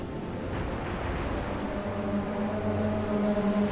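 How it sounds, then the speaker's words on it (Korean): Water in a large digital-art whale display churns and crashes like sea waves, a steady broad wash of surf-like noise with a low hum beneath, moderately close and continuous without voices. "진짜 파도가 치는 것 같아"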